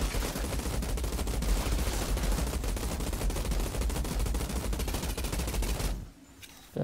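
Rapid automatic gunfire in the video game Outriders rattles in a dense, continuous burst for about six seconds before cutting off into quiet, then briefly resuming, loud and close with no talk.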